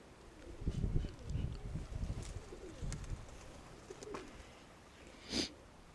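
Soft, low pigeon cooing repeats in short bursts against quiet outdoor background noise, with a brief rustle near the end.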